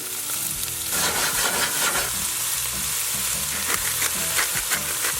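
Onions and serrano peppers sizzle in avocado oil in a Dutch oven, a loud, dense crackling fry with scraping stirs throughout, alone without talk.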